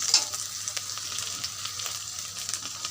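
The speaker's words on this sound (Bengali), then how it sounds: "এটা তেল দিয়ে একটু ভালো করে ভেজে নিচ্ছি" Okra frying in hot oil in a home kitchen pan, a steady bright sizzle with faint crackles and occasional stirring scrapes, close and continuous throughout.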